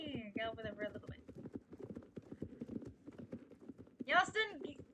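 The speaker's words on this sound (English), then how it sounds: "There's the herd of wild horses!" In the game Star Stable, a herd of wild horses gallops with a rapid, steady clip-clop of hooves, and a neigh rises near the end.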